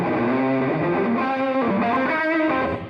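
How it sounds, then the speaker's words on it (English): Electric guitar chords drenched in fuzz with a short slapback delay from a Nemesis pedal, loud, thick and sustained, played alone for a few seconds. "I just have a little bit of a slap back from the Nemesis here and fuzz,"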